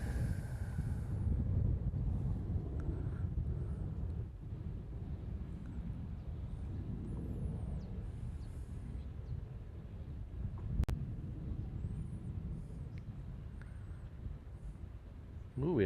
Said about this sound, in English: this Delta's heading off to Seattle. It's a 321.